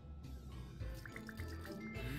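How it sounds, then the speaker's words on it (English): A character in the video game Manuel Samuel takes a sip of water, giving a soft, wet, dripping trickle over a low steady background, close and brief with no voices. "Sam decides to take a last sip of water before his demise."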